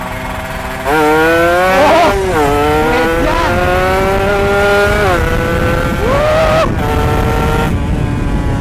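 A Yamaha MX King two-stroke motorcycle is ridden hard at full throttle on a rough road, its engine note climbing and dipping loudly with gear changes, close and continuous throughout.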